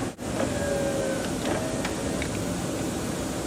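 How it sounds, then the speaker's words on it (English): A car's heater blower motor runs steadily, a constant near whir that starts abruptly after a brief cut at the beginning and holds at an even level, with no voices. "When we take that wire and plug it right in, you can hear our blower motor start"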